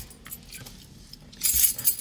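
Keys jangle close by in an LA apartment, a bright metallic rattle that swells over the last half second or so after quiet room tone.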